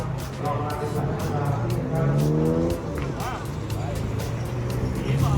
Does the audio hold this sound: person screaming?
no